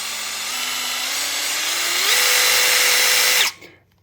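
A Milwaukee M12 cordless drill runs alone at close range with a steady high whine, its speed stepping up several times under trigger control before it abruptly stops and spins down.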